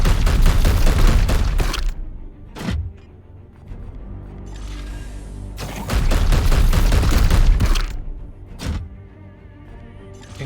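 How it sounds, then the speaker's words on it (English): Gunfire in the video game Warhammer 40K: Chaos Gate, two loud close bursts of rapid heavy shots with booming impacts and short single blasts between them, punctuated by mechanical game effects. "Opening fire."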